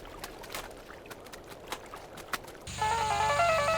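A phone ringtone for an incoming call starts abruptly and rings loud and steady after a series of brief clattering noises, with no talking over it.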